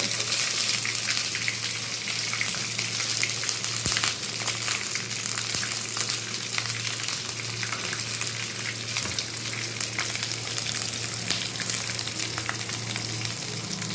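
Ginger, green chilli and garlic frying in a pan for a fish curry, a dense, steady sizzle close by that runs unbroken the whole time.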